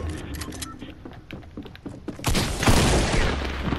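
Fortnite gunfire crackles in quick irregular bursts, then swells into a loud dense barrage of shots and booms near the end, with scattered mechanical clicks between.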